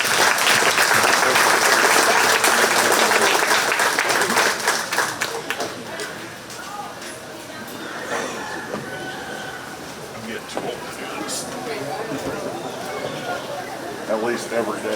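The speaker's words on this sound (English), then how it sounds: "They all deserve a nice big round of applause" Crowd applause for 4-H goat show kids at a county fair, strong clapping at first that fades to scattered claps and fair background noise, with a rooster crowing and a voice over the PA partway through.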